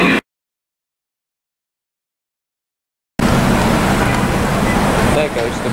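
A Brighton and Hove route 7 bus pulls away from the Hove Station stop, its broad engine and road rumble coming in loud and steady after a short silence, with outdoor traffic noise around it.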